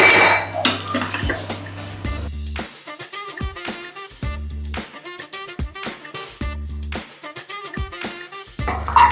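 Metal spoon scraping and clanking against a pot while cooked tapioca is mixed after draining and tempering with mustard seeds, a run of repeated close clinks and knocks in an uneven rhythm, with no talk.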